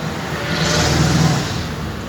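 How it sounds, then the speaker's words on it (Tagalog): Street traffic at night, a close, loud and steady wash of car engines and tire roar as vehicles pass by continuously, with no talk. "Ganitong oras, traffic."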